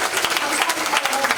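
A lecture-hall audience claps to welcome a professor at an academy talk in Incheon, with brisk, close, fairly loud applause from a modest crowd. It is continuous across the short moment, with a faint voice underneath.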